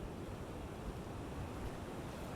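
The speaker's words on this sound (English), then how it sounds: "listen to the waves as they come in" Ocean surf rolling in on a shore, a steady wash of breaking waves with a constant broadband roar and some wind, loud and continuous throughout with no voices.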